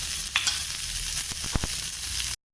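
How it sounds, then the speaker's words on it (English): Mushrooms sauté in olive oil with a sprinkle of salt, giving a close, even sizzle with a few sharp pops and stirring taps before it cuts off abruptly. "now we'll saute the mushrooms with just a little bit of sprinkle of salt"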